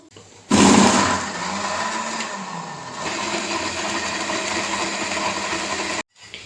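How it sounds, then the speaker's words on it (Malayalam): An electric mixer grinder (mixie), brought from the Gulf, whirs loudly as it grinds curry paste. It roars in abruptly, holds a steady motor whine for about five seconds, then cuts off sharply. "ഇനി നമുക്കിത് നന്നായിട്ട് ഗ്രൈൻഡ് ചെയ്യാം"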